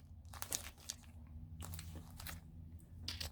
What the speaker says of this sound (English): We have an emergency blanket.